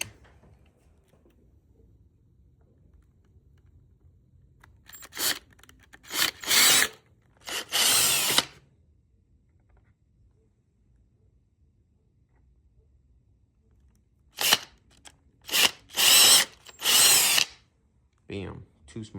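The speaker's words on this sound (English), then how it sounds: "Got my drill, baby." A power drill boring two small holes into the plastic fender of a Surron Ultra Bee electric dirt bike, in two clusters of short, loud whirring bursts separated by a long quiet pause.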